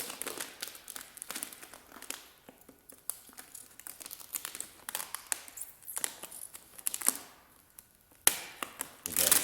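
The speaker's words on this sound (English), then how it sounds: "I'm going to use the side of my blade against the inside side of this taillight housing as my guide to trim this side off here" A blade trims vinyl tint film along the edge of a car taillight housing. The cutting comes through as soft, faint crinkling and scratchy ticks at close range, scattered irregularly with brief sharper taps near the end.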